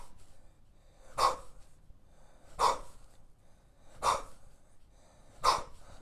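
Forceful exhaled breaths during kettlebell jerk practice, four sharp puffs spaced about every second and a half, close and fairly loud over a quiet background.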